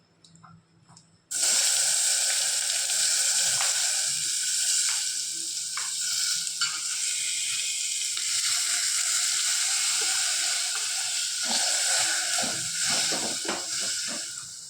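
Tomatoes are tipped into a hot pan while cooking tomato charu and break into a sudden loud, steady sizzle that hisses on for over ten seconds, with faint clinks and scrapes beneath.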